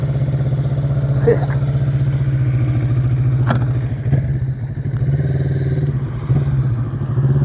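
A motorcycle engine drones steadily with rough, clattering revs, as if the rear wheel spins in place; nearby and continuous.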